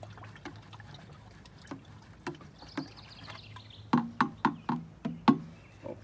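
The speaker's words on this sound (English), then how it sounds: "Let's give it a little stir." Fish emulsion fertilizer is stirred into a gallon of water, giving soft sloshing and a series of close, rhythmic knocks and splashes against the container, quiet at first and then louder in quick succession.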